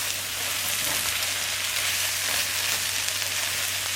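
Garlic frying in a pan, a soft continuous crackling sizzle, close and fairly quiet, with a faint low hum beneath and no talking.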